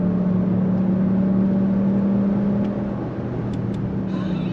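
Cabin sound of a 2023 Lexus RX 500h F Sport SUV driving through sweeping bends, a steady road and tyre roar with a low motor hum and whir, no voices.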